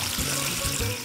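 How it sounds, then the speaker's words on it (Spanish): Water pours steadily into a cooking pot holding fresh mint sprigs with their stems, a close, continuous rushing splash. "Y le vamos a poner el agua"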